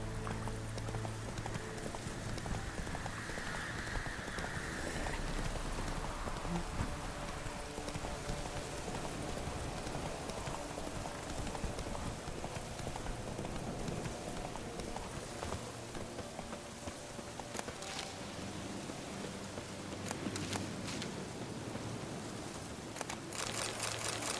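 Hooves of Roach, Geralt's horse in The Witcher 3, set in Velen, clop in a steady rhythmic gait for about twenty-four seconds over a wash of rain-like game ambience.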